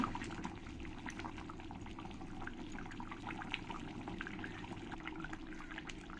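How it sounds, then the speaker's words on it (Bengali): Chicken curry simmers uncovered in a pan, a continuous bubbling and sizzling with small pops and gurgles that stays steady and close, with no voices. "আমি চিকেনটাকে ঢাকা না দিয়ে আমি কিছুক্ষণ ভালো করে এরকম করে জাল দিয়ে নেব"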